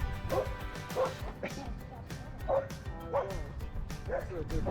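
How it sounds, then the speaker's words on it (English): A dog barking in short yipping bursts, about six evenly spaced barks, moderately close, with a person talking softly in the background. "She'll bark and then she'll go up to him."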